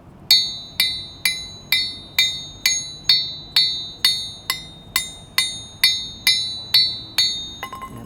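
A hammer strikes a steel anvil about fifteen times at a steady pace, each blow a bright metallic ring that fades quickly, clear and close.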